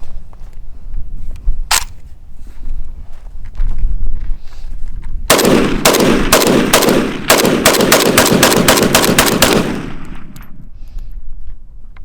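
An AK-47 variant rifle is fired from the hip outdoors, with one early shot and then a loud, rapid string of about a dozen close gunshots over roughly four seconds before the shooting stops.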